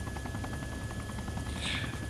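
A helicopter in the video game DayZ gives a steady, rapid rotor chop with a droning engine whine, moderately loud and continuous, with no talking over it.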